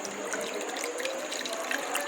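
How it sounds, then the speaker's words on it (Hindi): Blended mango juice being strained through a kitchen sieve, a soft continuous watery trickle and patter lasting a couple of seconds, fairly quiet with no voices. "तो अब हम इसको छान देते हैं"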